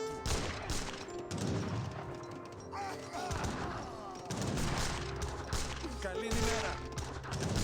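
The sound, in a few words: musket gunfire in the video game Age of Empires 3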